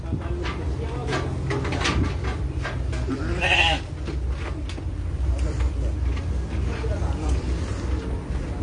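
A single short goat bleat rises midway through steady background noise in a goat pen in Bekasi, Indonesia, where adult goats and a kid are kept, with talking heard throughout.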